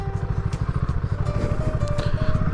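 A motorcycle rides over a rough, broken road, its engine a steady, loud, pulsing rumble close by, with clatter and bumps scattered through it.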